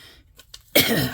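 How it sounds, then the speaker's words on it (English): A single sharp, harsh cough bursts out after a brief near-silence, loud and close, with no talking around it. "Please forgive me for the coughing."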